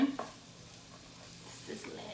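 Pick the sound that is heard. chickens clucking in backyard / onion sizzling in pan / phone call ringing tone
onion sizzling in pan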